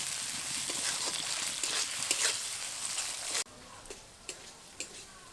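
Chopped tomatoes fry and are stirred in a pan with spice paste for bhoger khichuri. A close, loud sizzling hiss gives way to a quieter simmer with occasional sharp spatula taps.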